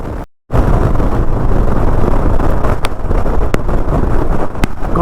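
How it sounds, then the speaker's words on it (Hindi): Heavy wind blast roaring over the microphone while riding a Royal Enfield motorcycle across an old bridge over the Parvati River, a loud steady rush with a brief dropout near the start. "विंड ब्लास्ट इतना ज़्यादा है कि मैं टेढ़ा होके बाइक चला रहा हूँ।"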